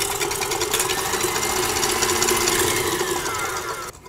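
A food processor churns egg and sugar together, a steady loud motor whir with a rattling, buzzing texture running continuously before cutting off at the end.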